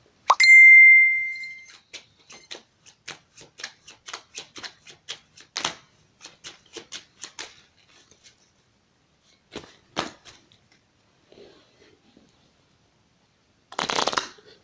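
Cards for a card reading are riffled and tapped in a quick burst of crisp clicks, pausing and resuming in short bursts, with a bright ding at the start and a soft rustle at the end; no talking.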